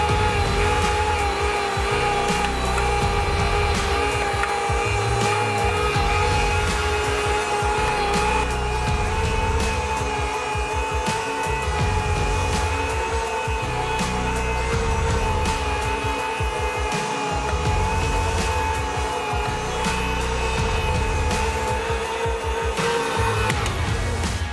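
A meat grinder works chilled venison with pork fat and bacon, its motor giving a steady, loud whir with a constant drone that runs unbroken for the whole stretch, with no talking.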